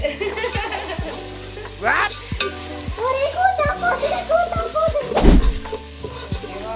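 Biryani ingredients, onions and then tomatoes, sauté in a pan with a steady sizzle, punctuated by the repeated thunk of a spoon stirring and scraping; a voice speaks briefly over the cooking noise.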